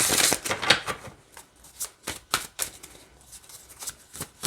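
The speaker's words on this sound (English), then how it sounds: "It's still shuffling just fine." A slightly stiff new tarot deck, Ask The Witch Tarot, is shuffled by hand, with crisp riffling bursts and soft card taps in an uneven rhythm, close and clear with no talking.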